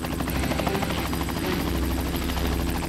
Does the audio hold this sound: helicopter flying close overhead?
yes